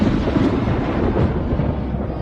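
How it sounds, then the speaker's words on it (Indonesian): A thunderstorm rumbles ahead in an animated film, a dense, steady roar of low thunder and wind-like noise filling the whole stretch without a break, loud and close, with no clear individual claps. "Badai petir, di depan!"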